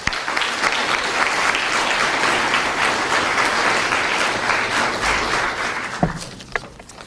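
An audience claps steadily to welcome Robert Spencer, a speaker on Islam and the Crusades, with dense, sustained applause that holds throughout and begins to thin out near the end.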